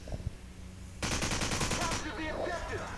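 Rapid automatic AK47 gunfire in a first-person shooter game, a loud, fast stream of shots that starts abruptly after a second of quiet and rattles on steadily to the end.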